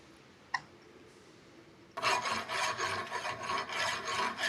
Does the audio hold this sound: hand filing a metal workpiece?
yes